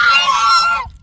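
A goose lets out one loud, harsh honking scream, close by on a snowy morning, lasting nearly a second before cutting off.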